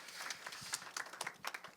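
Audience applause welcoming a speaker at a policy discussion forum, a quiet scattered patter of clapping that sounds distant.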